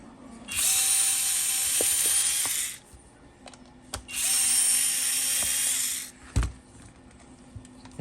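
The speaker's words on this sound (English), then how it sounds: "So we got this Basics electric screwdriver." An Amazon Basics electric screwdriver whirs in two sustained bursts of about two seconds each as it backs screws out of a Harbor Freight flashlight, with small clicks and a knock between and after the runs.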